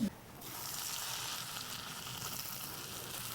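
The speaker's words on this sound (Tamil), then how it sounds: "அதே நெய்யில் நம்ம தேங்காவையும் வறுத்துடலாம்." Grated coconut sizzles in hot ghee in a pan, a steady soft frying hiss that runs on evenly after a brief clatter at the start.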